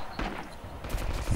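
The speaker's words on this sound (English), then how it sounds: "Your distant gunshots are the ones killing me." Gunfire in a video game sounds as several quick bursts of shots, fairly faint and somewhat distant.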